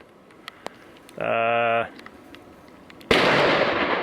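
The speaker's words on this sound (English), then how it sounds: "I guess I am shooting the Noveske" A single loud, sharp shot from a Noveske rifle fired outdoors cracks out near the end, its blast trailing off over a second, after a brief buzzing tone and a quiet stretch.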